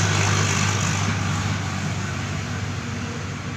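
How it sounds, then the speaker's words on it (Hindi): Continuous traffic noise from a busy main road is heard: a steady, dense rumble and hiss of passing vehicles, moderately loud and unbroken, with no talking. "इन नॉइज़ को इग्नोर करिएगा क्योंकि ये मेन रोड है ना, यहाँ से फिर गाड़ियों की आवाज़ आती ही रहती है।"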